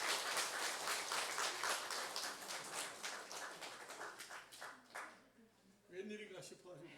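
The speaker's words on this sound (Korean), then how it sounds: "다시 한번 박수해 주시기 바랍니다." Church congregation applauding after a prayer, a dense steady clatter of many hands for about five seconds that thins out and fades, with a voice speaking over the tail end.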